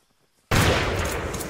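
A grenade blast with gunfire in the military shooter Arma 3 erupts suddenly as one loud, sustained burst of noise after a near-silent start.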